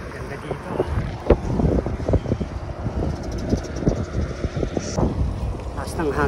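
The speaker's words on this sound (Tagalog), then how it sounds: "Taas ng hangin." Strong wind buffets the microphone during a long fixed gear bike ride on an open road from Parañaque to Cavinti, Laguna, roaring in uneven gusts with sharp thumps.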